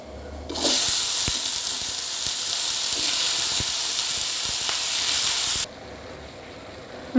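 Pieces of jackfruit hit a hot pan with roasted rice and set off a loud, steady sizzle that holds for about five seconds before cutting off, leaving a quieter background.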